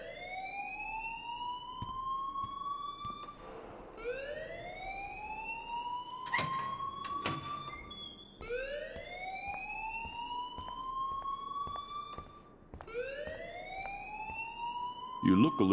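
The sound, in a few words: alarm ringing in video game Life is Strange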